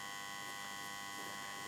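A circa-1950s Aristone valve radio switched on after restoration gives off a steady, faint electrical buzz and hum, with layered tones that hold constant and no voices.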